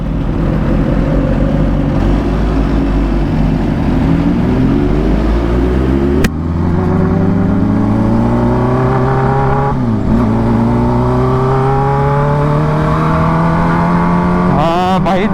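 Kawasaki Ninja H2 motorcycle engine running loud and close while riding, with steady rising and falling rev sweeps and a sharp shift blip midway, continuous throughout.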